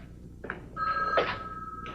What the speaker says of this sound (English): No, I'm sorry. Miss Armanti can't come to the phone right now